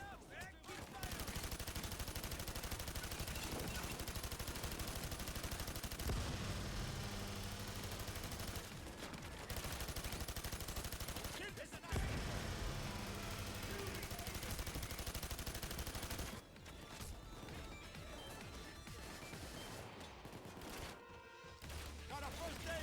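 Sustained automatic gunfire roars through a PAYDAY 2 firefight, dense and continuous with brief pauses, while voices shout over the din.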